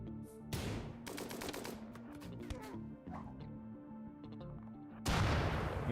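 Rapid gunfire from colonists and raiders in the RimWorld video game, a quiet stream of overlapping small shots with a louder, denser burst at the end.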